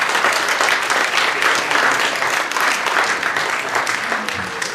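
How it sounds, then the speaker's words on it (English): Wedding reception guests applauding, a dense sustained round of clapping from a crowd in a room, loud and continuous throughout with faint voices mixed in. "Round of applause for Dan,"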